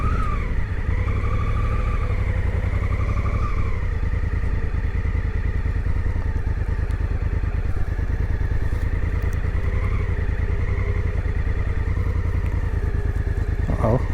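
A Honda Africa Twin motorcycle ridden on a fall mountain road near Mount Mitchell, its engine droning steadily and close for the whole stretch with a faint voice at moments.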